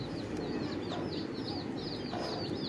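A free-range native hen clucks among her newly hatched chicks, with rapid high peeping from the chicks repeating throughout over a soft, steady farmyard background.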